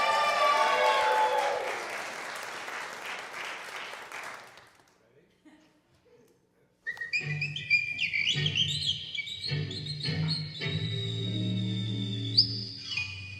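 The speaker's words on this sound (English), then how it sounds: "please welcome with a thunderous round of applause, Hudson Johnny Toby Heitch" An audience at a church talent show claps and whistles for about four seconds, fading into near silence before a bright whistled tune with accompaniment begins.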